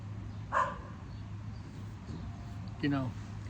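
A dog barks twice in the distance, short yelping bursts set apart by a few seconds over a steady low hum outdoors.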